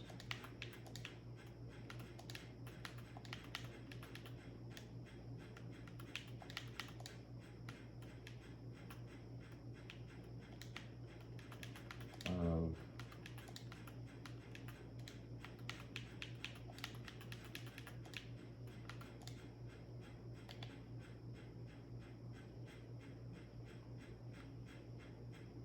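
Typing on a computer keyboard in a quiet room, a faint, steady patter of key taps with a brief louder rustle partway through, no voices.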